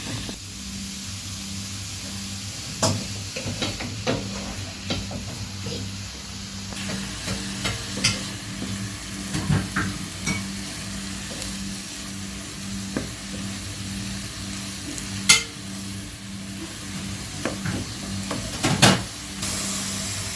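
Onions sizzle steadily in a hot pan while a spoon stirs them, with scattered scrapes and clicks against the pan over a constant frying hiss, and no talking.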